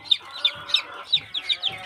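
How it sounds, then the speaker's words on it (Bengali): Newly hatched desi chicks cheep in a quick, regular series of high peeps, about seven calls in under two seconds, close and clear with no talk. "আমাদের আরও কিছু মুরগির বাচ্চা আজকে ফুটে বাইর হইল"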